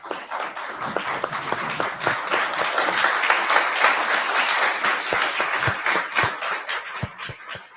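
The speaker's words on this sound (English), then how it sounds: "So I'd like to have us all stand up and give us" Audience applause at a child and adolescent psychiatry training seminar, a dense, steady wash of many hands clapping that swells and then thins into scattered claps near the end.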